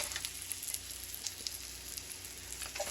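Food sizzles in a frying pan on the stove, a steady crackling hiss with scattered pops, close and continuous.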